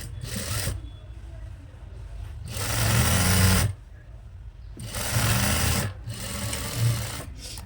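A sewing machine runs top stitching on a frock in three loud, close bursts of steady whirring, with lower mechanical hum filling the gaps between runs.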